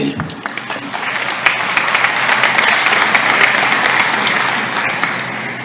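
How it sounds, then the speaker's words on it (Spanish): An audience at a cultural book-presentation event breaks into loud, sustained applause, dense clapping that holds steady for several seconds with a brief voice near the start. "Fuertes las palmas para él."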